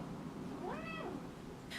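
A single cat meow rising and falling in pitch, fairly quiet against a steady low background hum indoors.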